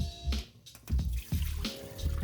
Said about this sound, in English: Once your water is clear, go ahead and drain the rice.